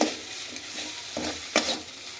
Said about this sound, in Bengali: মশলাটাকে আমরা অনবরত নাড়াচাড়া করে করে ভাজা করছি।